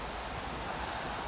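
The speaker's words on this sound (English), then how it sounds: "enjoying this rain" Steady rain falling through woodland, a soft continuous hiss of drops on leaves and ground, even and unbroken, with no voices.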